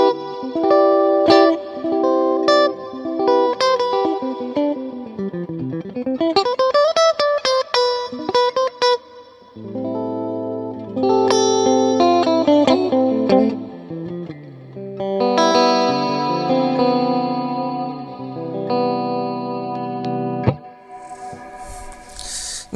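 Electric guitar played through a Quenzel M3 pedal into a Roadie Bandmate 15 amp, giving a modulated, effects-heavy tone with pitch bends, sustained chords and melodic runs, loud and close with no speech.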